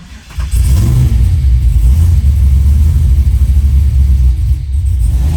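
Chevrolet Trailblazer SS V8 with a new cam fires up and settles into a loud, lumpy, rumbling idle that carries on steadily close by.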